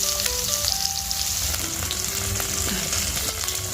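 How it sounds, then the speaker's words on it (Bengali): Fish sizzles and crackles steadily in hot oil in a pan, with occasional stirring sounds and faint clinks over the continuous frying hiss. "এই যে মাছের এক সাইডগুলো ভাজা হয়ে গেছে"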